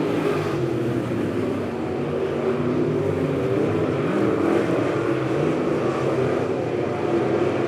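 Race cars roaring around a dirt speedway oval during a heat race, a dense continuous engine drone with rising and falling revs, loud and steady throughout.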